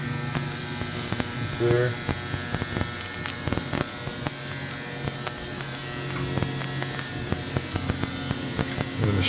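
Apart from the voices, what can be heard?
ultrasonic blind cleaning machine humming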